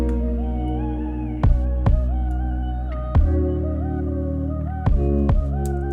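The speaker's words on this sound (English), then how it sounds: "So our kick sounds like this." A lo-fi beat's kick drum pattern thumps about five times at uneven spacing, some hits in close pairs, over a steady sustained tonal backing with no talking.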